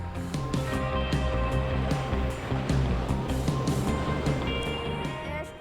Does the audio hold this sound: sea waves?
yes